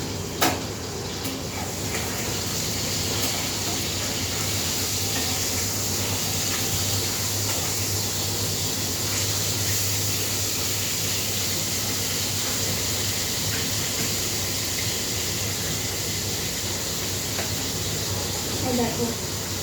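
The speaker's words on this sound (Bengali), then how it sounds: "এই যে দেখো মাছ ভাজা বসিয়েছি।" Fish frying in a pan, a steady close sizzling hiss that holds evenly throughout without pause.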